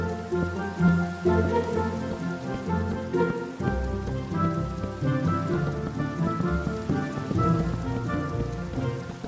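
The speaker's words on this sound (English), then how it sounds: "And here comes the rain." Steady rain falls in Minecraft, a dense continuous patter on surfaces that holds loud and even throughout without a break, with game music tones running underneath.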